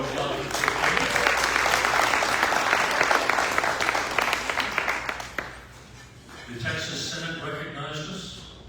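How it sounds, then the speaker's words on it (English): A round of applause from the audience at a Rotary year-end celebration lunch honouring a Woman of Distinction, a full, sustained burst of clapping lasting about five seconds before it stops and a voice starts talking. "Round of applause"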